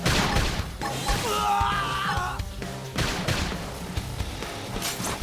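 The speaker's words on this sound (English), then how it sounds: "We can just topple them with gunfire!" Rapid bursts of gunfire and heavy impacts from a battle in the video game Xenoblade Chronicles X Definitive Edition, loud and close with crashing hits, no talking.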